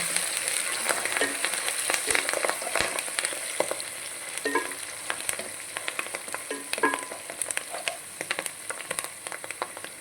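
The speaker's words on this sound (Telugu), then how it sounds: "ఉల్లిగడ్డ మగ్గిపోయింది కదండి, మనం కరివేపాకు వేసేసుకున్నాం. ఇప్పుడు కరివేపాకు కూడా మగ్గాలి." Onions and curry leaves fry in a pan with a steady sizzle, while close scraping and stirring strokes come through again and again over roughly ten seconds.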